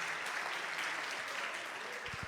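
A church congregation applauds for Jesus, a steady, even wash of many hands clapping together at a moderate distance, with a few low thuds near the end.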